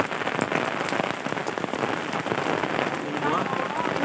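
Steady rain patters densely on surfaces in a rural village, a continuous close hiss of drops with no pauses throughout.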